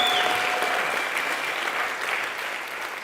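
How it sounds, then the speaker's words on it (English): A room of entrepreneurs in Cape Town breaks into loud, dense applause that carries on steadily throughout, tapering slightly near the end. "give yourselves a round of applause for being crazy"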